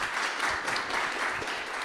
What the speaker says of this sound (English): Applause to Janusz, please.